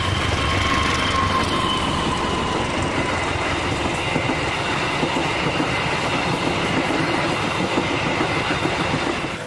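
A toy CC201 locomotive pulling wagons runs continuously with a steady, dense rattling clatter, fairly loud and close, with no talking.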